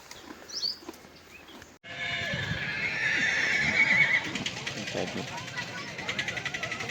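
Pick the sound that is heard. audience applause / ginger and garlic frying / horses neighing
horses neighing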